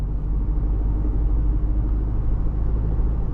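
Steady low engine rumble from a 2026 Chevrolet Colorado pickup under light throttle with the turbo building boost at low RPM, a continuous close drone with no talking.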